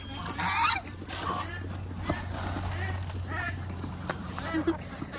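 Ducks quack and call close by in a backyard setting, several short nasal quacks scattered over a steady low hum, while someone talks to them.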